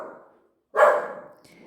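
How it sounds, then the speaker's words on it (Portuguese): A house dog barks once, a single close sharp bark after a short hum of voice, followed by a faint trailing tone. "o cachorro começa a latir"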